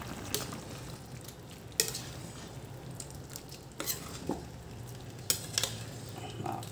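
Adobo being stirred in a cooking pot: a utensil scrapes and clinks against the pot in scattered sharp knocks over a soft, steady sizzle, up close, with no talk.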